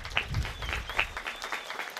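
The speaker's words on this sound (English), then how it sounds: "To our families and caregivers, you deserve a round of applause." Graduation audience at a high school ceremony claps in scattered, moderately distant applause, with individual claps standing out briefly.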